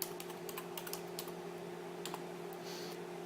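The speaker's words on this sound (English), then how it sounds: "We can decide to save the data, so we can type the name" Quiet, quick typing on a computer keyboard, a run of light clicks in short bursts with brief pauses between, alone against a faint steady hum.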